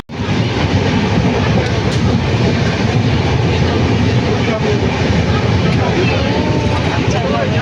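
A passenger train runs steadily after pulling out, its loud, constant rumble and rattle of wheels on track filling the whole stretch without a break.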